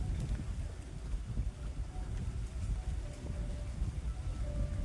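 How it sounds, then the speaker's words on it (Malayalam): A houseboat passes on the Marthandam backwater lake in Kerala, a low, steady engine rumble heard from nearby, mixed with gusty wind buffeting the microphone. "ഇത് കണ്ടോ, ഹൗസ് ബോട്ട് പോകുന്നുണ്ടോ."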